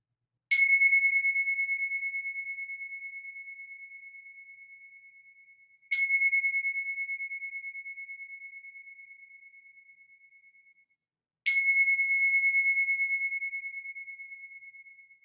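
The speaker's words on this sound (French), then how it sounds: "Je sonnerai bientôt les cloches 3 fois" A meditation bell is struck three times at roughly even intervals, each a clear, bright ding with a long, slowly fading ring, alone in an otherwise silent space.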